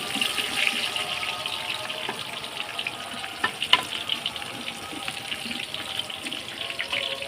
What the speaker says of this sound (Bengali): এই যে এখন পেঁয়াজ কুচি দিয়ে দিল আম্মু